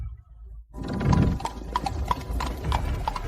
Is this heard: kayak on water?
no